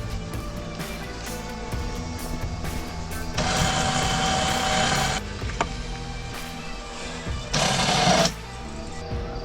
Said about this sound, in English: Winch coming in handy.